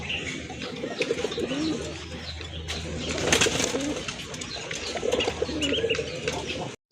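Pigeons for sale, shown in pairs including tiger-coloured birds, coo steadily and close by. Several low, throaty coos overlap continuously, with light chirps and rustling mixed in and no talking.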